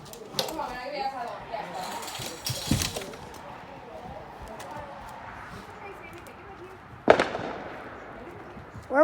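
Fireworks go off outdoors in a few scattered sharp cracks and pops, one loud burst near the end standing out against a quiet background with some distant voices.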